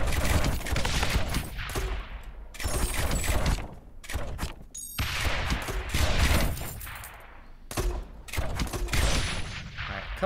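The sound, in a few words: mortar tower firing in the video game Rogue Tower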